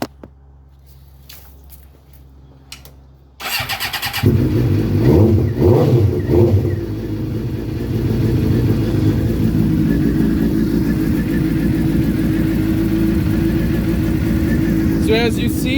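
A numbered motorcycle that has seen track use starts up after a quiet lead-in, then its engine revs loudly several times and settles into a steady close idle. Someone speaks during the clip.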